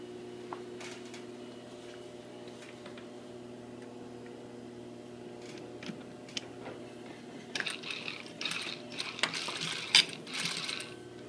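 A sewing machine stitches a front zipper fly with a low steady mechanical hum. Quiet ticking at first builds to louder rapid clattering bursts near the end, with no voices.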